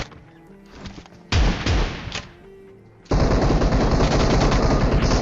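Gunfire in the PUBG Mobile video game: loud automatic bursts, with a short burst first and then a long, sustained volley at the end.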